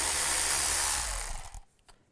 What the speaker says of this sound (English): use a 10 millimeter socket